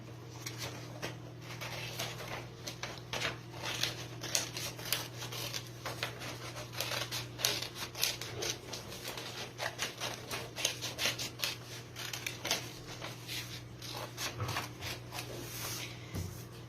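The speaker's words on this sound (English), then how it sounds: "So we're just gonna snip away the excess paper." Scissors snip through excess paper while trimming a paper crown, giving a steady run of close, crisp cuts and rustling over a low constant hum.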